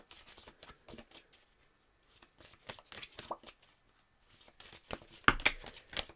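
Oracle cards shuffled for a card draw: short bursts of crisp riffling and flicking, close and moderately loud, stopping briefly and then picking up again with a final flurry.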